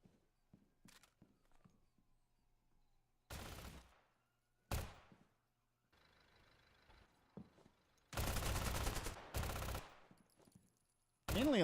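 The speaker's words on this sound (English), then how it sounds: "Mainly lots of pre-firing going on right now." Gunfire in the tactical shooter Zero Hour during a competitive match: scattered single shots and short bursts, then long sustained automatic fire, sharp and loud against near silence.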